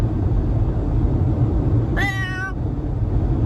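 A single cat meow, drawn out for about half a second with a clear, rising-and-falling tone, cuts through a steady low rumble of background noise during a moving day on the road.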